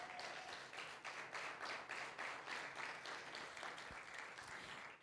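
Congregation applauding during a church service, a steady wash of rhythmic clapping from many hands filling the room at a fairly low level, with no voices over it.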